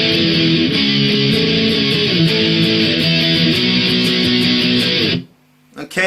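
Distorted electric guitar plays the outro of a song, a loud, dense strummed part that rings steadily for about five seconds, then cuts off abruptly into near silence with a faint stray note at the end.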